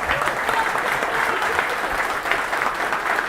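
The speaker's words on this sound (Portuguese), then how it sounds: "vamos pedir uma salva de palmas pro Bertolucci" A crowd at a political rally in Londrina breaks into sustained applause for a man who built a wooden stage, the clapping dense and steady from start to finish with no voices over it.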